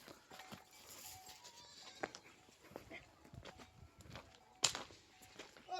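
A goat bleats faintly at a distance among soft footsteps and scattered outdoor noise, with one sharper bleat standing out near the end.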